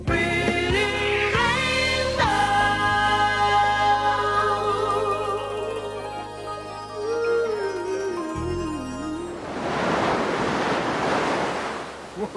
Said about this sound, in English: But I love coming down to the ocean's edge and watching the surf.